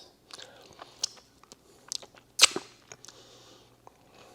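A bite of iced lemon cake is chewed up close, giving a run of soft irregular crunches and moist mouth clicks with one louder burst midway.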